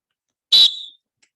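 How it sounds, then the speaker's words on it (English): A safety whistle used for flagging gives one loud, shrill blast of about half a second. It starts hard and fades quickly. "I actually like a whistle."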